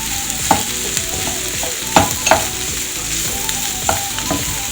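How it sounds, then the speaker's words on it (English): Boiled tripe (matumbo) frying with garlic and onion in a pan, a continuous sizzle broken by several sharp knocks and scrapes as it is stirred, close up and without speech. "we are going to let our matumbo cook into our garlic and onion for like 5 minutes"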